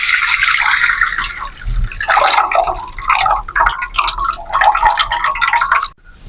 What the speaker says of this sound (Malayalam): പൊതിർത്തി വെച്ച പുളിയാണിത്, ഞാൻ അരിച്ചിട്ട് വയ്ക്കുന്നുണ്ട്.